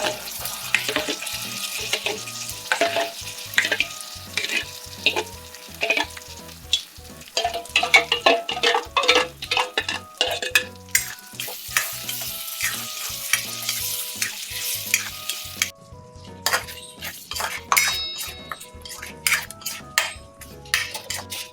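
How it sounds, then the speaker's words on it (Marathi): Onion-tomato gravy for paneer butter masala sautéing in oil in a kadai: a continuous sizzle broken by frequent spoon scrapes and metallic clanks against the pan, with no talking throughout. "कढईला तेल सुटोस्तर आपल्याला छान ही ग्रेव्ही परतवून घ्यायची आहे."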